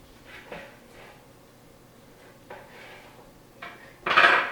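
A knife slicing through a smoked, herb-crusted bone-in pork loin on a board: a few soft cutting strokes, then a louder, brighter scrape near the end, close and without talk.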